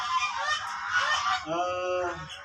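A jumbo Muscovy duck in a pen gives loud, close, continuous honking calls that rise and fall over a couple of seconds, heard alone without talk.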